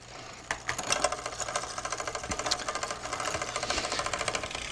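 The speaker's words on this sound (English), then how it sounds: "The chain should jump cleanly in the space of about a quarter to a half turn of the crank arm." A bicycle chain runs across the rear cogs as the rear derailleur shifts, making a fast, steady ticking and whirring that stays close and moderately quiet throughout.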